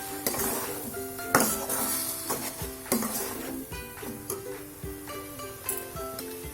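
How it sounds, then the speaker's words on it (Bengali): Cabbage curry is stirred in a pan, with repeated scraping and clinking of a spatula against metal over a soft sizzle, irregular strokes close by and without talk. "আবার একটু নাড়া দিচ্ছি।"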